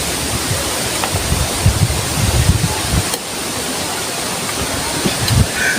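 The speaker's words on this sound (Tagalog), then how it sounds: "malakas naman yung hangin" Strong wind rushes steadily across the microphone outdoors, a loud broadband roar with gusty low buffeting that dips briefly before rising again.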